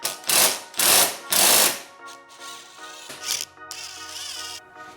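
Ratchet wrench clicking as bolts come off the stock intercooler of a Mk8 VW GTI, loud bursts of rapid clicking early on, then quieter metallic working noises close by.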